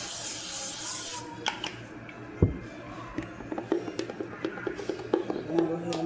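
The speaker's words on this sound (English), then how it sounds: "We're gonna spray the pan with a little pan so it don't stick." A short hiss of cooking spray bursts at the start, followed by light clatter of kitchenware while someone talks nearby.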